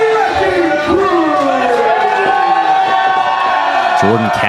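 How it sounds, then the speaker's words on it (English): A pro wrestling crowd roars and cheers for the West Coast Wrecking Crew at a tag team championship match, loud and sustained, with a commentator's voice over the noise. "And what a reception from the crowd"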